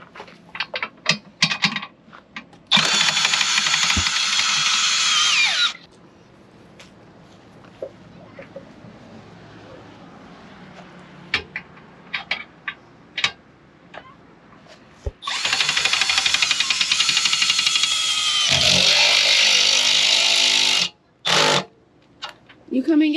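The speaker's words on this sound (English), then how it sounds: "so this is actually a Milwaukee drill" A Milwaukee power drill drives RV stabilizer jacks in two long, loud whirring runs, with a clutch rattle and short bursts near the end, separated by quieter handling noises and clinks.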